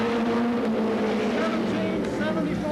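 A Goody's Dash race car, the Louise Smith special, roars past on a qualifying lap at Anderson, South Carolina, its engine a steady loud drone with a shifting pitch, under an announcer's voice.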